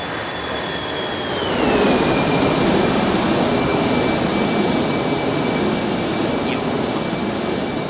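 Jet engines of an Airbus A310 corporate jet roar steadily during the climb in the X-Plane 11 flight simulator, a loud broadband rush that swells after the first second and holds with a high whine that falls slowly.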